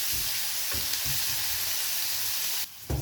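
Onion, tomato, chili and squash sautéing in a pan, a steady bright sizzle with a few soft stirring knocks, cutting off briefly near the end before resuming.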